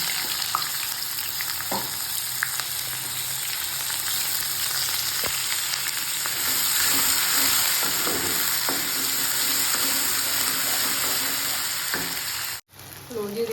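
Cumin seeds fry in a hot pan with a steady, close sizzle, broken by occasional light clicks and scrapes of stirring; no one speaks.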